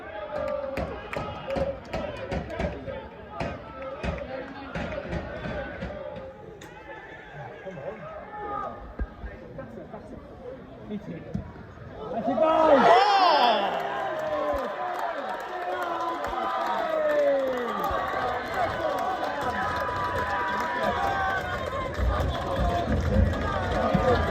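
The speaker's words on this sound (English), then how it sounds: "The crowd are going nuts behind me there." Football crowd roaring and cheering after a Tonbridge goal against Salisbury, a swelling mass of voices that erupts midway and stays loud, with someone talking over the noise beforehand.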